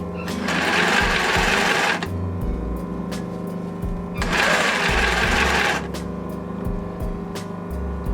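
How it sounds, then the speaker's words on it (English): A sewing machine stitches gathered ruffles into tutu fabric. Two loud, close bursts of rapid stitching hum are separated by a brief lower-pitched lull as the fabric is repositioned. "back tack and stitch over what you've stitched already"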